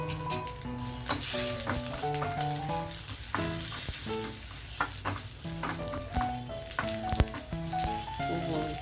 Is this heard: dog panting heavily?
no